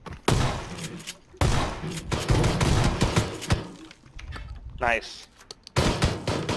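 Shotgun and rapid weapon fire in a multiplayer shooter game, loud repeated blasts and bursts close up, overlapping with players talking and a brief whooshing effect.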